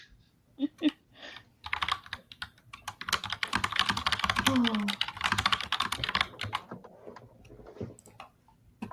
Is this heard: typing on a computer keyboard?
yes